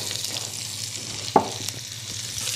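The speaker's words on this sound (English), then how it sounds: "always start with my onions first." Onions frying in bacon grease in a pan for smothered pork chops, with an even close sizzle broken by one sharp clack of a utensil against the pan.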